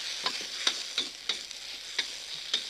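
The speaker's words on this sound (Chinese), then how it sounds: "这样子把它炒好了，" Stir-fried vegetables for a Chinese moo shu style dish are scraped and scooped from a hot wok with a metal spatula, giving sharp clinks roughly every third of a second over a light steady sizzle.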